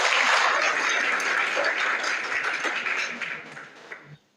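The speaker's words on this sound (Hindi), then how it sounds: "सही जवाब इनके लिए आप लोग तालियां बजाइए" Applause from a school audience, dense and steady for about four seconds, gradually thinning before stopping abruptly with a final clap or two.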